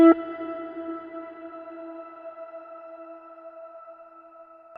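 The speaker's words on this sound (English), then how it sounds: "the reverb comes really late, and it has two voices, added voices, an octave higher" Electric guitar through a Kemper Profiler with a late-arriving reverb and two added octave-up voices: a single struck note that rings and sustains, decaying slowly with shimmering higher harmonics hanging above it.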